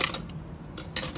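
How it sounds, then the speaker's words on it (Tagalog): Spoons and forks clatter inside a large stainless steel cooking pot recovered from a dumpster, bright metallic jangles in short bursts at the start and end with a brief lull between, close and no speech. "Kutsara, tinidor."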